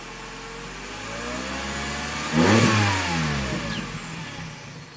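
Mini car engine running a little rich as it warms up, a close mid-pitched idle that swells into a brief rev partway through, then settles back to a steady hum.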